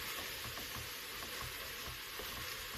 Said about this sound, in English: Stir it in more.